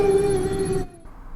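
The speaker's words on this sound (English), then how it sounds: "that was a rather cheesy-sounding werewolf howl, in my opinion" A werewolf howl from the Ben 10: Protector of Earth video game rings out loud and sustained as a steady tonal wail, then cuts off abruptly, leaving a faint lower tail.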